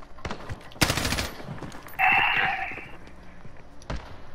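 Gunfire in Call of Duty: Modern Warfare: a few sharp, close shots and one short rapid burst, separated by quieter moments with a brief electronic tone.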